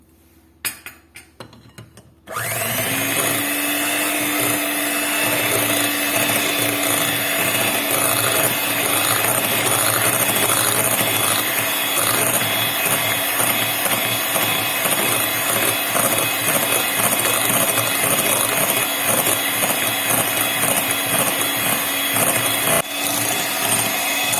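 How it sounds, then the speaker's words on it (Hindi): An electric hand beater whips cream with cocoa powder for a chocolate cake, starting after a brief clatter and then running steadily and loudly with a constant motor whine and rough scraping for over twenty seconds, without talk. "अब मैं इसके अंदर डालूंगी कोको पाउडर और फिर इसको अच्छी तरह बीट कर लूँगी"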